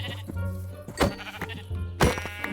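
Sheep in a video game bleating as they are killed, several short wavering bleats in quick succession, loud and close.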